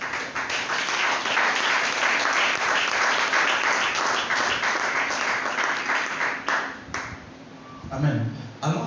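A church congregation at a French-language Christian service bursts into loud, sustained applause and cheering that fills the room for several seconds, then thins out toward the end as scattered voices come through.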